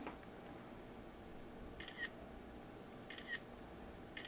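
A camera shutter snaps faintly three times at even intervals against a quiet indoor hum.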